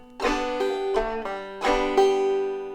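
A banjo played clawhammer style plays a short phrase of several ringing notes, each bright attack followed by a sustained tone.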